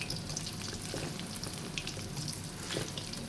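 A mushroom and holy basil omelette frying over medium heat gives a faint, steady sizzle and crackle throughout with no voices, soft and fairly even in level.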